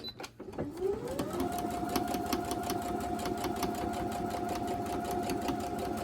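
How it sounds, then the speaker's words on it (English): A sewing machine stitching quilt block pieces, the motor ramping up after a brief start and then running steadily with rapid rhythmic needle clicks, close by and continuous. "Just go ahead and start sewing that one."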